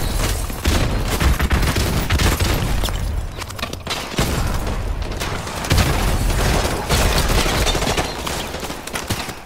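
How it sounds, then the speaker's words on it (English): A grenade explodes during heavy video game combat, buried in a dense, continuous roar of booms and rapid gunfire that stays loud throughout. "She just threw a grenade at me?"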